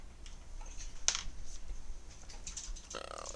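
Computer keyboard typing heard faintly behind a Minecraft modpack game session, a few scattered keystroke clicks with one sharper tap near the middle and a short burst toward the end.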